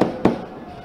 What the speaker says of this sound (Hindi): बड़ी संख्या में लोगों ने आतिशबाजी कर जश्न मनाया